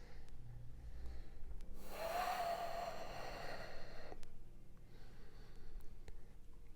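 A single long exhale during a power yoga flow, a soft broadband breath rising around two seconds in and fading out by about four seconds, close and quiet over faint room tone.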